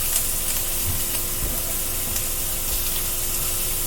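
Italian sliders sizzle steadily in a hot pan, a close, continuous frying hiss with small pops and no talking.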